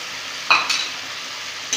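A spice paste with melted tomatoes and sour yogurt is sautéed and stirred in a pan for an okra-yogurt curry, giving a steady close sizzle with a few sharp scraping stir strokes.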